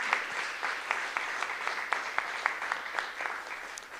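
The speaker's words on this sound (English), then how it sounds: "So give a round of applause to all the athletes that competed at state." An audience at a school board of education meeting applauds student athletes who competed at state, a steady, moderately loud wash of clapping from many hands with a few sharper claps standing out.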